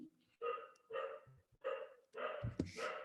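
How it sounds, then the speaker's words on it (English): Dogs barking in a home during an online workshop session, four close, moderately loud barks in quick succession with short pauses between them and no speech. "Ignore my dogs."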